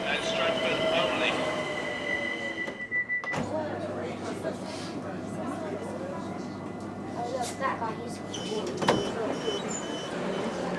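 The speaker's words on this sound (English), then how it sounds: "So that train is now going to run non-stop to Stratford" A London Overground train stands at a station on the North London Line, its steady low hum and rumble running under fainter clunks and squeals, with people talking in the background.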